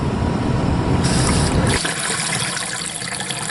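Water rushes loudly through garden hoses run out to a fifth-wheel travel trailer, a strong steady gush that drops to a softer flow partway through.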